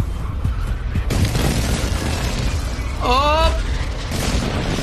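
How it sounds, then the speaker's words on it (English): Airstrike explosions in the video game Warzone, deep booming blasts rumbling continuously through the clip, loud and dense, with a player shouting briefly over the barrage. "they're gonna airstrike the fuck out of here"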